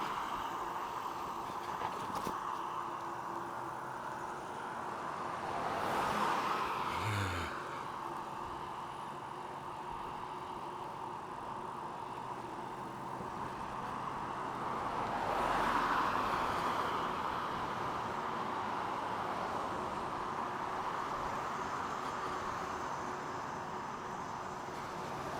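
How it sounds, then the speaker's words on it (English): Vehicles pass along a 45 mph road, swelling into two whooshing pass-bys around six and sixteen seconds, with a steady background hum of traffic in between. "traffic's built up a whole lot more on this road than when I normally go riding"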